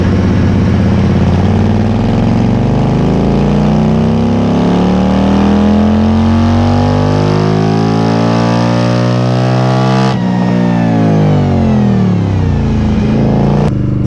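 A 2018 Indian Scout motorcycle engine on a dyno revs hard and climbs steadily in pitch for several seconds, drops sharply, then winds up again, loud and close with no voices.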